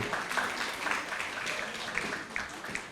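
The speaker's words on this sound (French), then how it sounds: "On applaudit Korogo s'il vous plaît." An audience at a children's holiday talent semi-final claps for a team from Korogo, faint and somewhat distant, steady scattered applause for a few seconds.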